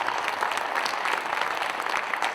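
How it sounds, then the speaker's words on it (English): Steady crowd applause at a Cardinal Caravan event, an even wash of many hands clapping at moderate volume without pause. "I just want to get a round of applause for a few people"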